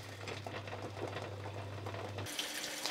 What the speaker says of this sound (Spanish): Lavamos muy bien bajo el chorro del agua fría y con la ayuda de un cepillo especial para cocina todas las naranjas